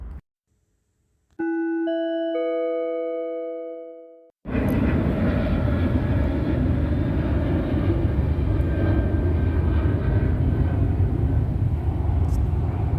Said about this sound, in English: Stalking by commercial plane hovering over me